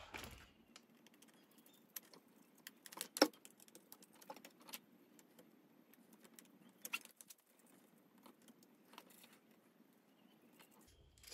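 Small 2.5 mm self-tapping screws being driven by hand into a 3D-printed plastic part, giving faint scattered clicks and creaks with irregular ticks and a sharper snap near the start, quiet and close.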